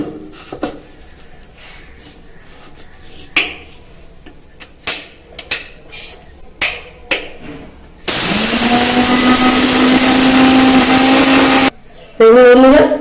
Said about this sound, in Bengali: গুঁড়ো করে পাউডার করে নেব মিক্সিতে